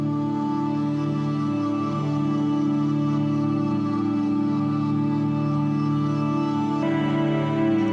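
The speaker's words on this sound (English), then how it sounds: "the main sound in this section is this Labs cello patch, and that sounds like this." Sustained Labs cello patch from a synth, a steady bowed drone holding rich stacked harmonics with a slight shift near the end, moderate level and alone with no talk.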